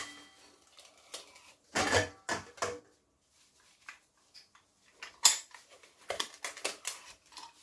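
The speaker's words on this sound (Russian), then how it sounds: "картофель, пока он еще теплый, я пропускаю через картофелепресску" Warm boiled potatoes pressed through a metal potato ricer in a kitchen, giving a few close clanks and scrapes of metal, in irregular bursts with quiet gaps and no talk.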